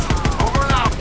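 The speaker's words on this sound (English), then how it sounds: "platoon's taking heavy fire!" Heavy automatic gunfire crackles in rapid, evenly spaced bursts across a World War II battle in Call of Duty WW2, loud and close, with shouted voices mixed in.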